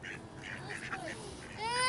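Ducks quack in short bursts close by as they are fed bread outdoors, a few nasal calls overlapping over light background noise.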